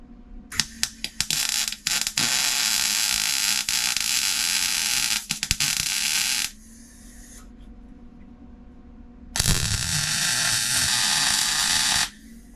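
Bolt being welded onto a shifter lever mount for a Jag special build: loud, sustained crackling buzz in long bursts with brief stutters and pauses, no talking.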